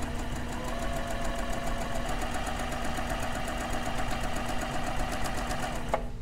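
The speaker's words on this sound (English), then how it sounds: "You're going to keep sewing." A sewing machine stitching fabric, running continuously at an even rapid rhythm, close and steady, stopping with a click near the end.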